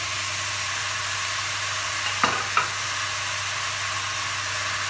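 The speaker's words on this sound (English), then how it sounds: "After this, we're going to add our minced beef." Minced beef frying in a pan for lasagna, a steady broad sizzle with a faint low hum underneath and two brief scrapes near the middle, with no voices.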